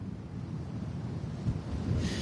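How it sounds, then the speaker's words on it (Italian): Strong wind buffets the microphone on a storm-lashed beach at Bibione, a low, continuous rumbling roar with gusts swelling near the end. "il vento qui a Bibbione è davvero fortissimo, quasi ci sposta"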